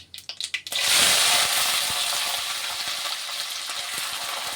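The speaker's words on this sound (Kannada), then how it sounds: "ಕ್ಲೀನ್ ಮಾಡಿ ವಾಶ್ ಮಾಡಿರೋಂಥ ಅವರೆಕಾಳನ್ನ ಇದರಲ್ಲಿ ಹಾಕೋತಾ ಇದ್ದೀನಿ" Washed field beans (avarekalu) dropped into a hot pan: a few quick clatters, then a loud sudden burst of sizzling that holds steady and fades slightly as it continues.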